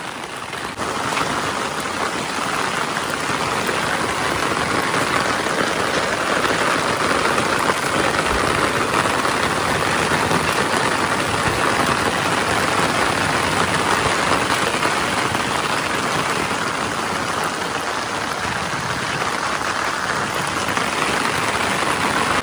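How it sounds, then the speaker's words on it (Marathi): Heavy rain pours steadily on a village farm by the sea during high tide, a dense, continuous hiss that stays loud and even throughout with no voices. "एवढा पाऊस पडतोय"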